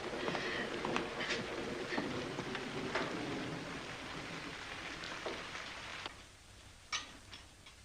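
Steady rain patters and drips on surfaces, with sharper isolated drops ticking now and then, fairly quiet and thinning toward the end; no one speaks.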